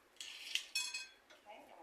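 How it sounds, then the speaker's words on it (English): Knife blade tapping a cutting board while chopping fresh strawberries, several crisp clicks and knocks in close succession, close and fairly quiet. "We're going to go ahead and start chopping up"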